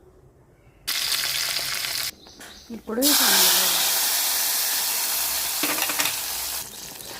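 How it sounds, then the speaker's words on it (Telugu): Tempering spices hitting two ladles of hot oil in a pan, a loud sizzling hiss that starts abruptly, pauses while a voice speaks, then resumes strongly with stirring scrapes. "ఇప్పుడు ఇలా ఒక ప్యాన్ తీసుకొని 2 గరిటెల ఆయిల్ వేసి పోపు పెట్టుకోవాలి."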